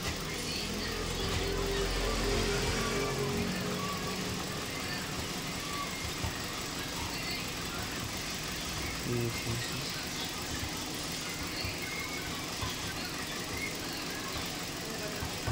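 A Hyundai Accent engine idles steadily up close, with a continuous low rumble and rattling knock running under the whole stretch while people talk nearby.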